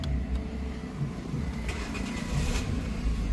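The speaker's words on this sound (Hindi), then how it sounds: "तो गाड़ी स्टार्ट हो गई है" A Maruti Suzuki Fronx CNG car engine starts up and settles into a steady, close, low mechanical rumble, with no voices over it.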